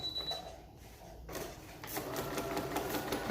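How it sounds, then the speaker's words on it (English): Sewing machine stitching straight lines through paper, a steady close mechanical whir that starts after a short quiet pause and runs continuously to the end. "we're just going to start to sew on those lines"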